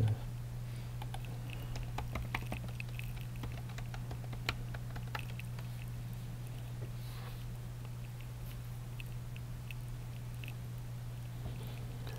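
Light, irregular computer keyboard typing entering a username and password, quiet and close over a steady low electrical hum.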